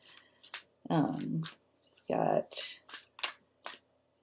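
A deck of oracle cards is shuffled close up, with two longer riffling bursts among light taps and flicks, while a voice speaks nearby.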